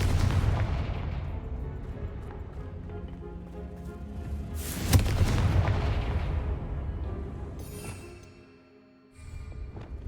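A Confringo blasting spell in Hogwarts Legacy sets off a sustained rumbling, explosive barrage with one sharp burst in the middle, loud and close, fading away before a brief return of the rumble.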